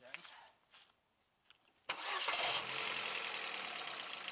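Faint background noise, then a warm Ford Fiesta Zetec 1.2 engine cranks without the clutch pressed and catches with a burst, settling into a steady idle close by.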